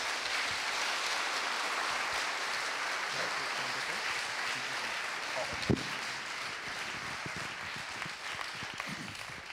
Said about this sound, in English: give a very big hand of applause for Mr.